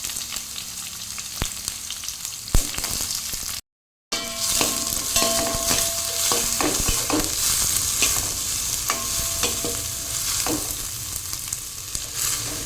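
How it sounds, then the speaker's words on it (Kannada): Thinly sliced onion with curry leaves frying in ghee in a pan, a steady close sizzle with occasional stirring scrapes and clinks, cut by a brief silent gap partway through. "ಸ್ವಲ್ಪ ಹಸಿ ವಾಸನೆ ಹೋಗುವ ತನಕ ಫ್ರೈ ಮಾಡಿಕೊಂಡ್ರೆ ಸಾಕು. ಇವಾಗ ನೀರುಳ್ಳಿ ಫ್ರೈ ಮಾಡಿ ಆಯಿತು"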